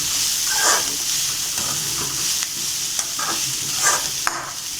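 Peas stir-frying in a pan of chicken fried rice, a steady close hiss and sizzle with repeated scraping stirs, no talking.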